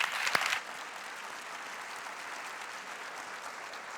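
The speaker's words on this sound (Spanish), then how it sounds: "Vamos a darle un fuerte aplauso a los 4," An audience applauds four researchers at an evening science event at the Poema del Mar aquarium, a sustained, even patter of many hands heard from a moderate distance, with a few sharper claps at the start.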